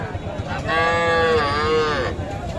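A Jersey heifer calf at the Setabganj cattle market gives one drawn-out nasal moo lasting over a second, close by, amid low market background noise.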